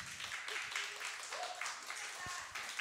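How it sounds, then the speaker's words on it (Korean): A church congregation at a Sunday worship service applauds in a continuous, moderately loud patter of many hands clapping throughout, heard from within the room with some voices mixed in. "축하합니다. 박수."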